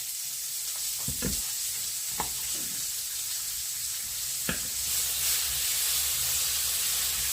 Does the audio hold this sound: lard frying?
yes